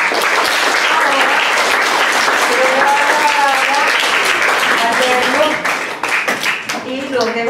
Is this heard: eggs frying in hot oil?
no